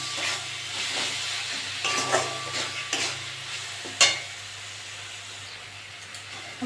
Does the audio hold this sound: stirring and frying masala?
yes